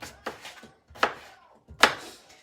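Potatoes being chopped with a knife in a home kitchen: three crisp, separate strikes spaced about a second apart, close and moderately loud, with quiet gaps between them.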